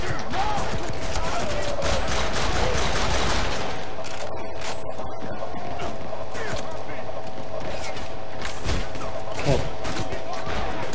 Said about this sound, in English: Too many guys with pistols trying to shoot me in the face.